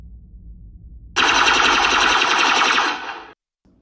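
A homemade Star Wars F-11D toy blaster fires a rapid burst of electronic zaps lasting about two seconds, loud and close, then cuts off abruptly after a quiet start.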